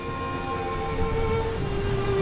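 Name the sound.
rain falling in Roblox video game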